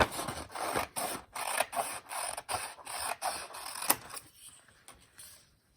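Scissors cut a strip of material with a rapid run of crisp, rhythmic snips and rasping blade strokes, close and fairly loud, then trail off into a few softer, slower cuts at the end, with no talk.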